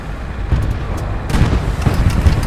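Rapid gunfire and booming shots in a World War II tank battle game with armored cars, a dense, loud run of cracks and thuds that grows heavier partway through and rumbles continuously with no talking over it.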